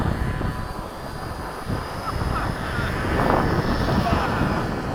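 Mini RC B-17 model planes fly in formation, giving a steady buzzing engine drone that swells slightly as they pass, mixed with outdoor wind noise, while people talk nearby.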